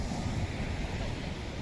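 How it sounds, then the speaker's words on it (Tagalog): Strong waves breaking on a beach in Zambales, a continuous rolling roar of surf with wind noise buffeting the microphone, steady and fairly loud throughout. "Ang lakas ng alon."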